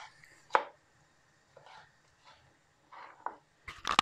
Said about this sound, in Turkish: Biberlerimi çok küçük doğramayacağım.